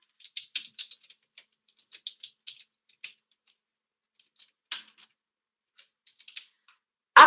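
Login details are typed on a computer keyboard in crisp, close clicks, coming in quick bursts separated by short pauses, with a louder clack at the very end.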